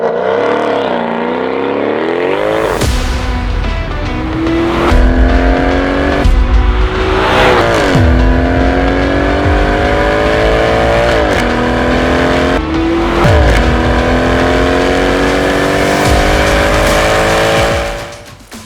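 A Mercedes-Benz W204 C63 AMG V8 revs up and launches hard with launch control, roaring through several quick gear changes with rising pitch, loud and close.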